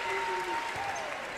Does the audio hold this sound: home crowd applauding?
yes